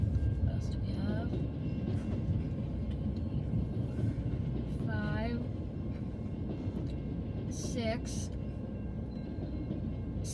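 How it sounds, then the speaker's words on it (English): A VIA passenger train with a green engine and business-class cars rolls through downtown London, Ontario, a steady loud rumble of wheels on track throughout, with passing horn-like tones and a voice talking over it. "a train coming through. It's a green engine."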